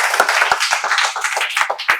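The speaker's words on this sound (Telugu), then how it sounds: "Right answer. క్లాప్." A classroom audience in a spoken English class claps for a correct answer, a short burst of sharp, close, somewhat uneven handclaps.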